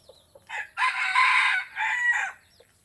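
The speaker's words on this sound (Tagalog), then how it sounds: "Pakinggan nyo yung tilaok ng aking tagpas." A red junglefowl rooster (labuyo) crows alone on a rural Philippine farm, one long clear crow of about two seconds with a short pause partway through, close and loud against a quiet background.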